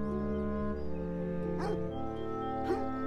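A dog in the video game Beyond Eyes gives two short barks, moderately close, over a steady sustained musical background.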